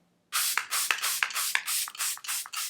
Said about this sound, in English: We'll use Charlotte Tilbury setting spray.